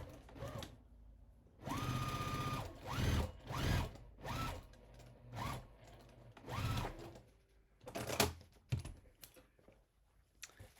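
A domestic sewing machine runs in several short stitching bursts along an apron seam, its motor whirring up and down with pauses between runs, close and fairly quiet with no talk.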